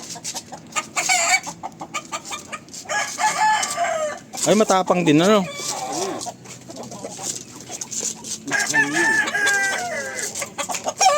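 Chickens on a farm cluck close by in quick bursts, and a rooster crows loudly in several drawn-out calls, while someone talks between the sounds.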